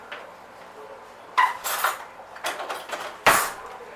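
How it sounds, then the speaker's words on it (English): Kitchen utensils rattle and clink as a knife is grabbed while making fried damper, Garlic Jonny Cakes: a few close metallic clatters and scrapes in quick bursts, with one sharp clank near the end. "I'm going to grab a knife."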